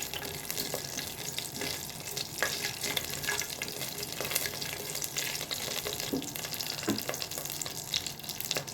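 Cardamom, cinnamon and bay leaf fry in a pan on a stove, giving a steady close crackling sizzle with occasional stirring clicks and scrapes and no voices.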